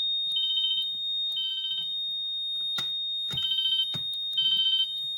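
A Grinnell/Autocall C-2224 fire alarm panel beeps a high electronic zone alarm in repeated pulsing bursts about once a second, with a few sharp clicks and knocks in between.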